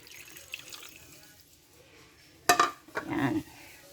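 A little water poured from a tap or container into a pan while cooking meat with shrimp paste, heard as a short burst of splashing followed by a brief second trickle, close and fairly clear.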